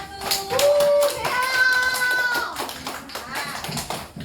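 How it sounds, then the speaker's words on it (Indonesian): Pupils in a classroom applaud a group, with rapid hand claps rising in a busy burst and fading over about four seconds, mixed with children's excited voices and a sung note. "tepuk tangan untuk kelompok 1"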